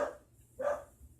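A single short dog bark follows a softer earlier yelp, fairly faint and at a distance.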